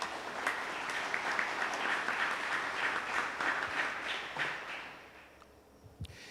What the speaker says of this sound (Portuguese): Vamos aplaudir a palavra do nosso Deus?